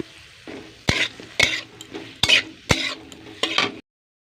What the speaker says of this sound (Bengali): একে একে সব সবজি দেওয়া আছে। চলুন এবার একটু নেড়ে নিই।